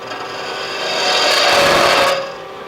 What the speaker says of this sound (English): we can hog off much bigger shavings, and it's just effortless with that little scooping action of that tilted cutter